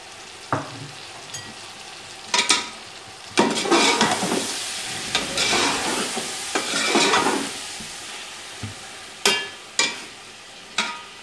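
Chicken with coriander, ground cumin, garam masala, tamarind and dried plums cooks in a pan over a medium flame for murgh pulao: a soft sizzle broken by bursts of spatula stirring and clattering.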